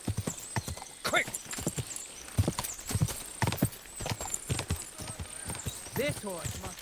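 A horse galloping in Kingdom Come: Deliverance 2, with rapid rhythmic hoofbeats throughout, a whinny near the end, and voices talking over the hooves.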